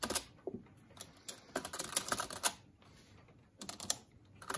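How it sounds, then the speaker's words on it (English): Rapid clattering keystrokes on a loud early-1990s laptop keyboard, heard alone in close bursts with short pauses between them. "Keyboard is pretty good. It's very loud, as you can tell."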